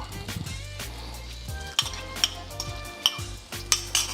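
An egg drops into a hot greased pan for chicken fried rice, giving a soft sizzle under light scraping and clinks of a utensil against the pan.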